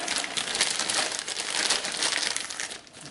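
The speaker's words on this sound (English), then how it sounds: "Always, always, always wrap your shampoo up in a Ziploc bag." Continuous close crinkling of a plastic Ziploc bag as a shampoo bottle is wrapped in it, busy and rustly throughout with no talking.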